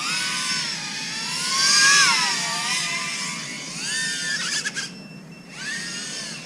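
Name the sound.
FPV drone motors flying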